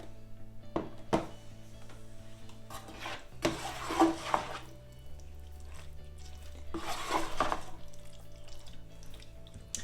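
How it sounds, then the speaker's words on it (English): Beef chilli stirred in an air fryer basket, with a spoon scraping and clinking against the metal in a few bursts amid low steady background hum, close and moderately quiet. "So let's give it a little bit of a stir"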